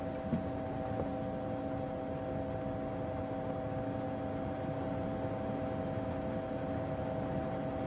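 A cartoon helicopter in flight, a steady droning hum with sustained tonal lines held evenly and fairly loud throughout, no voices over it.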